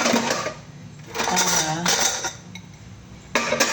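Dried plates being put back in place in a simple manual home kitchen, with a few bursts of clinking and clattering ceramic separated by brief quieter pauses, close by and with no talk.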